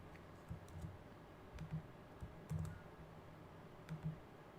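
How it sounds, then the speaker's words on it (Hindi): Quiet clusters of computer keyboard keystrokes, a few short bursts of soft clicks spread across several seconds over faint background hiss. "तो यहाँ पे परमानेंटली डिलीट टाइप कर देते हैं।"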